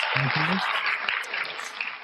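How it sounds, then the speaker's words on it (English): Thin applause-like patter from a single source at a corporate talk, a steady hiss of claps lasting about two seconds, with a short low vocal sound near the start. "I'll give you some real applause here. There you go. Some applause."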